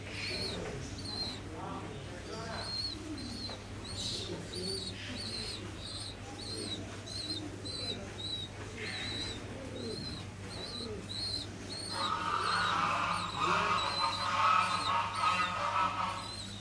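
A colony of grey barless pigeons makes soft low coos while a parent feeds its young, with repeated thin high squeaks from the chicks rising louder toward the end, recorded close by.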